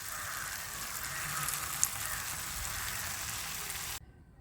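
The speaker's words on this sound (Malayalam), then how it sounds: "ഇതിലേക്ക് നമ്മളിതിങ്ങനെ കുറേശ്ശിട്ട് വറുത്തെടുക്കാം" Small sweet potato balls deep-fry in hot oil with a steady, close sizzle and fine crackling that continues evenly for about four seconds, then cuts off abruptly.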